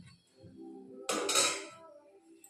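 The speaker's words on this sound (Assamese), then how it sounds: "এইখিনি দি মই ইয়াত এতিয়া ঢাকন মাৰি দিম" A lid is set down on a pot of duck curry cooked with black pepper and potatoes, giving one close metallic clatter that rings briefly and fades over quiet kitchen background.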